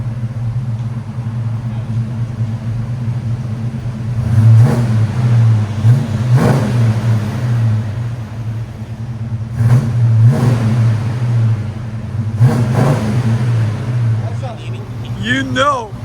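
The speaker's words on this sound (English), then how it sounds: "This is what it sounds like after, guys." A 1971 Buick Riviera with a 455 V8, headers and Borla Pro-XS exhaust idles with a deep burbling drone, then revs sharply several times in spaced bursts, close and loud, with people talking around it.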